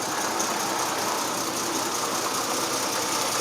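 A rebuilt Plymouth truck engine idles steadily, a dense, even rumble with broad hiss, close and continuous without talk.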